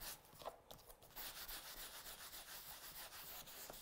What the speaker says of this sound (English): just get some tissue and just burnish it. Just give it a rub with a tissue